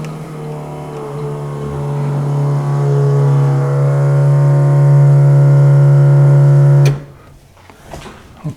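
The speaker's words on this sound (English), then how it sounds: "let's turn on the pump and purge the air out." A car's electric fuel pump runs to purge air from the fuel line, a loud steady whine that rises in pitch and level, holds for several seconds, then cuts off abruptly, leaving faint clicks and rustling.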